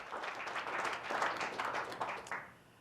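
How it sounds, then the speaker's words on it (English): A town hall audience in Claremont, New Hampshire claps briefly, a close, lively burst of many hands at moderate loudness that tapers off after a couple of seconds. "you can clap for that because it's a serious issue"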